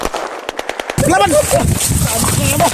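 Video game gunfire: a rapid burst of automatic shots close up, followed by excited voices shouting over continued shooting and noise.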